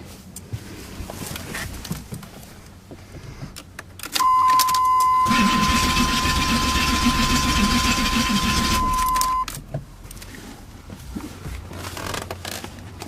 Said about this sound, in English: So if you're cranking and not getting anything out of it, it could be that you have a faulty injector.